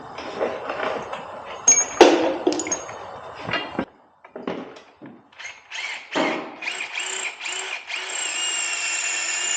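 A power tool drives bolts into a motorcycle rack plate in a campervan, with metallic clinks and handling knocks, short bursts of whirring, then a sustained close drill whine.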